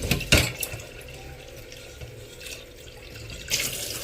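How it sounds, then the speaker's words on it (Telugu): Tap water runs and splashes into a bowl of basmati rice set to soak, a low steady trickle with a louder splash at the start and again near the end, no voices. "ఇవైతే ముందుగా బియ్యం నానబెట్టేస్తున్నాను"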